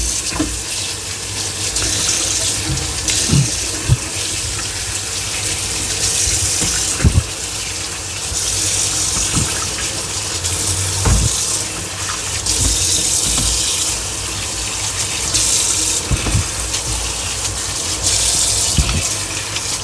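Tap water runs steadily into a sink while salted eggplant slices are rinsed under it, a close, continuous gush with small knocks and splashes as the slices are moved by hand.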